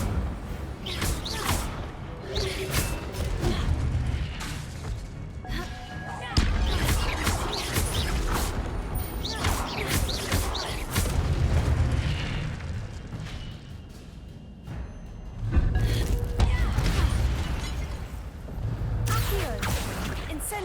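Incendio fire spells cast repeatedly during combat in Hogwarts Legacy, a run of loud booming bursts and crackling blasts in quick succession, with game noise and voices mixed in.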